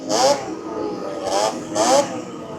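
A vintage 440 snowmobile engine at a vintage snowmobile weekend revs in three loud, close bursts with a steady idle between them.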